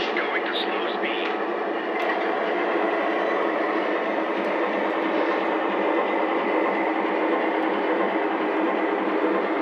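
A steady, continuous rolling hum and rattle of a Lionel Santa Fe Alco PA and PB model train running slowly, unchanging throughout.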